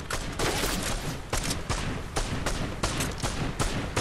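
Dense, sustained gunfire from a shooting video game, loud bursts repeating every half-second or so across the span, with sharp cracks layered over a continuous roar of shots and no voices.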